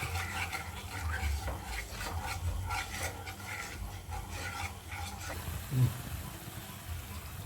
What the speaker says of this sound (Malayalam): നമ്മുടെ പുളിവെള്ളം നല്ലവണ്ണം തിളച്ചിട്ടുണ്ട്.